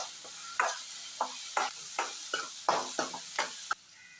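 Onion and curry leaves frying in a pan, with a soft steady sizzle broken by about eight sharp, evenly spaced stirring scrapes of a spatula.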